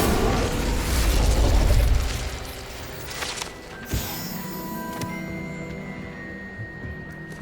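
Incendio fire spell cast in the video game Hogwarts Legacy: a sharp burst and whooshing flare of fire that rises then decays, followed by a brief pop and lingering magical shimmer, with no speech.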